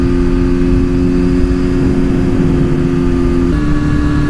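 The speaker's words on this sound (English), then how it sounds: "Two Brothers exhaust. It's a real smooth bike. Engine's real smooth on these" A BMW S1000RR sport motorcycle fitted with a Two Brothers exhaust runs steadily nearby, a smooth, loud, continuous engine drone holding one pitch, then shifting slightly higher near the end.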